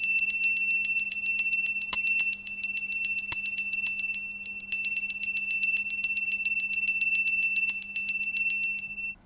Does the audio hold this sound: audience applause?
no